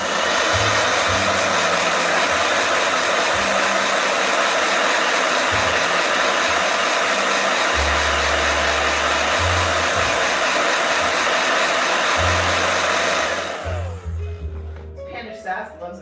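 A handheld blow dryer roars steadily at high volume for most of the span, then cuts off near the end, leaving faint handling noises.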